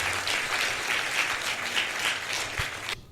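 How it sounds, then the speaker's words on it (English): A studio audience at an intercollege debate launch in Liberia gives the teams a round of applause. The clapping is close, loud and continuous and cuts off abruptly at the end. "may you give the teams a big hand of applause"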